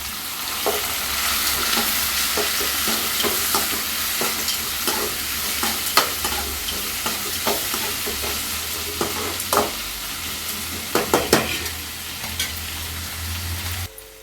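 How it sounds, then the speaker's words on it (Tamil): Onion, tomato and curry leaves sauté in a hot pan, with a continuous loud sizzle and repeated sharp spoon scrapes and clacks against the metal, growing busier toward the end. "அதுக்கப்புறம் தக்காளி கருவேப்பிலை போட்டு நல்லா வதக்கலாங்க."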